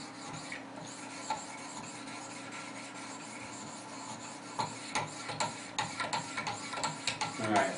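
Spyderco Paramilitary knife blade being sharpened on Wicked Edge 800 grit stones, soft rhythmic rasping strokes that grow quicker and louder toward the end, close and quiet with faint background hum.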